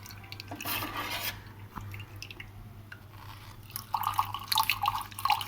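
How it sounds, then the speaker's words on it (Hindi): Black grape juice trickles and drips through a kitchen strainer, with light clinks of utensils and a steady low hum behind it, growing busier with spatters near the end. "अब स्ट्रेनर की वजह से इसे छान लेना आपने, ऐसे नहीं डालना, आपने छान के डालना।"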